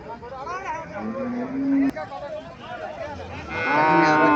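A Haryana Jersey cow lows loudly and close at a cattle market in Chauddagram, giving a long rising moo and then a second call later, with people talking and a murmur of crowd babble throughout.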